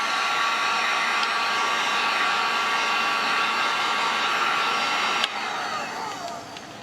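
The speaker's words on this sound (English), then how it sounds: "Now we will dry this with my handy dandy industrial heat gun" An industrial heat gun blows steadily to dry stencil paint, a loud, close whir that drops suddenly in level near the end and keeps running more quietly.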